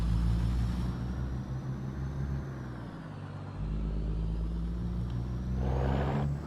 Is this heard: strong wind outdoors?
no